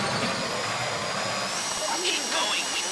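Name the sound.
drilling a safety deposit box in GTA V heist, video game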